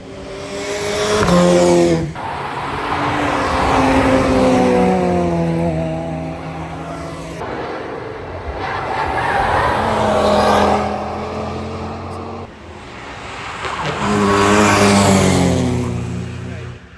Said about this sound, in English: we got to see some pretty cool cars going around the track